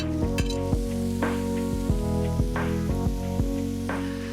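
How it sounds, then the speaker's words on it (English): Chopped mushrooms cook in a sauté pan, giving a steady sizzle beneath a run of bright, regular knocks and rattles that repeat roughly every half second, close and fairly loud throughout. "Now in with our chopped mushrooms, and this needs to cook for a further 10 minutes."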